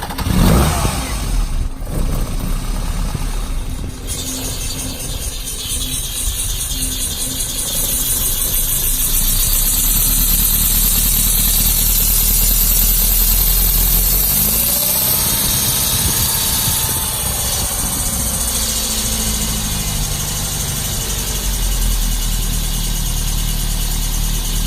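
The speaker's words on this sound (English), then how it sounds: "Idles nicely." A 1972 Lancia Fulvia's V4 engine, sitting unmessed-with and fitted with a choke, idles steadily and loudly up close, a smooth continuous rumble with a slight shift in pitch partway through.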